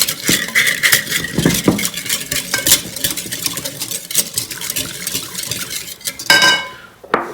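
Yeast being stirred into lukewarm water in a bowl for pizza dough, a close, busy clatter of utensil against bowl with clinks and rattles running throughout.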